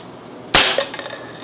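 A single sharp snap from an Umarex Legends Luger .177 air pistol, loud and close, fired at a target after a quiet lead-in, with a brief rattling tail.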